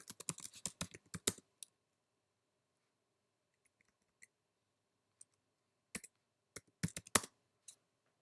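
Rapid bursts of typing on a computer keyboard, a dense cluster of close clicks at the start, a long silent gap, then a few scattered taps and another short flurry of keystrokes near the end.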